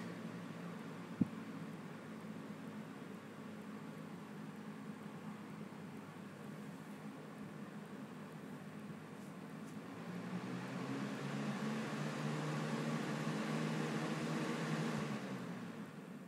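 A 2008-09 Lasko 3733 box fan running on low speed gives a steady, close airflow whir with a low hum underneath. It grows slightly fuller partway through, with no talking.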